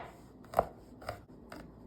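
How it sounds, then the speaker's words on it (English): Knife blade chopping garlic on a cutting board, three soft separate cuts spaced about half a second apart, close and quiet, with no talking. "I'm getting ready to cut up my vegetables."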